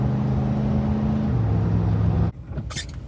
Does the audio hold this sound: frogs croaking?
no